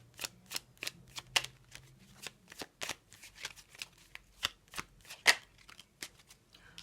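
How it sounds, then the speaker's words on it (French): Oracle cards shuffled and drawn by hand, soft crisp clicks and riffles in an uneven series, close and fairly quiet, with no talk. "Pour le choix numéro 1, le papillon, on va tirer quelques petites cartes."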